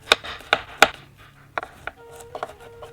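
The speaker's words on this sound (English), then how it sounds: "I like slicing the garlic as opposed to grating it." Garlic being sliced with a knife on a cutting board: a few sharp, crisp chops in quick succession, then softer irregular cuts and light taps, close and isolated.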